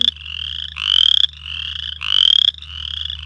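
Chorus frogs call from a vernal pool full of eggs, rising trilled creaks repeating in pulses about every second, close and loud over a low steady hum.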